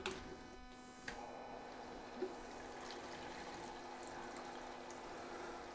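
Tap water running steadily during a three-vessel HERMS home brewing setup, a continuous moderate hiss of flowing water with a couple of brief knocks and clunks early on, no talking.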